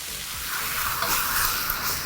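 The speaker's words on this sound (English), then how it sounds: "We want to sear the beef." Beef sizzles steadily in a hot pan before stir-frying, a continuous bright hiss with faint crackles, close and moderate in volume with no talking.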